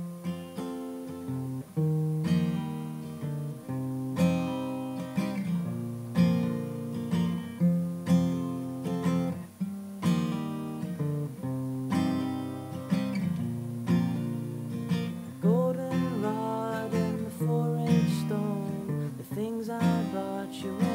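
Acoustic guitar playing a song, strummed chords with hammer-on embellishments in a steady, close and clear rhythm with no voice over it.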